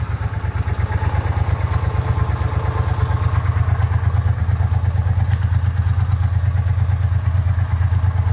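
A hot rod race mower tractor engine idles up close, a loud, steady, rapid thumping putter with a mechanical clatter, running evenly throughout without voices.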